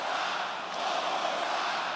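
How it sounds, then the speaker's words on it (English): A sold-out stadium crowd at the AEW Double or Nothing wrestling event roars with loud, sustained cheering, a dense wash of voices that holds steady throughout. "Boy, what a crowd."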